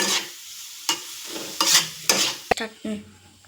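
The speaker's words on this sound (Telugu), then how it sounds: "రెండు బాగా కలిసి ఏగాలండి బాగా ఎగితే పచ్చి స్మెల్ రాకన్నా సొరకాయ స్మెల్ రాదనమాట" Chopped bottle gourd sizzles in a pan as a spoon stirs it, giving several scraping sweeps and clinks at an irregular pace over a soft steady frying hiss.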